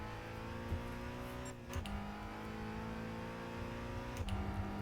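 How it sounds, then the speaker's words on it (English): A car engine sputtering and struggling under steady running, its droning tone dipping and catching in a few uneven stumbles, heard from inside the vehicle. "You can hear the car gasping."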